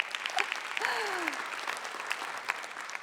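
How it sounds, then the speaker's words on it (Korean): Audience applause after a motivational storytelling talk, a steady wash of clapping across the whole stretch with a brief voice rising over it near the start. "박수 쳐도 돼요."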